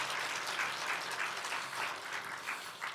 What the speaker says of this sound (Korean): 우리 하나님 앞에 영광의 박수 한번 드리겠습니다